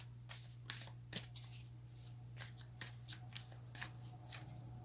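Tarot cards being shuffled by hand, a run of soft papery riffles and flicks in uneven bursts over a steady low electrical hum, close and fairly quiet, with no talking.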